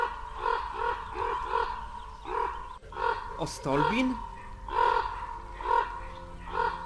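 A raven caws repeatedly in the video game Broken Ranks, rhythmic croaking calls at steady intervals under a voice speaking, with a brief rising creature-like cry in the middle.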